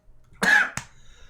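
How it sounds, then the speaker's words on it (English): A person coughs after vaping a new cartridge: one harsh, close cough, then a second shorter one, with quiet breathing before and after. "It always does make you cough, no matter what."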